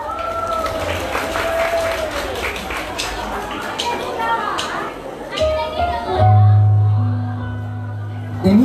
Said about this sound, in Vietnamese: một tràng pháo tay cho mùa đông mát